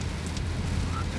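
Rain falls during a car journey home from Malang, a steady dense hiss over a low rumbling drone that continues unbroken throughout.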